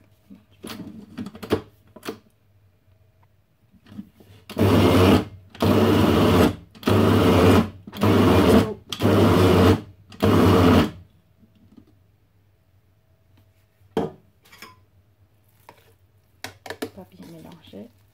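Meat pie filling ingredients being mixed by machine in six loud, steady bursts of about a second each, with brief pauses between them, alone against a low kitchen hum.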